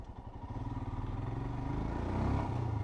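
An air- and oil-cooled 2023 Royal Enfield Himalayan 411 motorcycle engine thumps nearby, its steady low rumble swelling as the revs climb toward the end.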